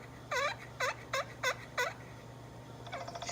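Turkey yelps used to attract a gobbler during a hunt: five clear, evenly spaced nasal calls ring out, followed after a pause by a faster, softer run of yelps.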